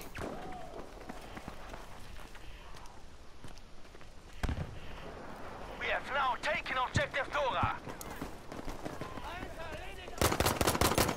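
Bursts of AK assault rifle fire in the shooter game Battlefield V, rapid rattling shots standing out near the end amid ongoing battlefield noise, footsteps and scattered distant gunfire.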